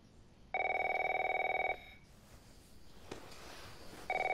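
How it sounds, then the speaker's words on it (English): A telephone rings in The Last of Us Remastered Part 1, with two loud electronic ring bursts separated by a pause and a quieter ambient stretch, heard alone without talking. "Oh, great, another phone call."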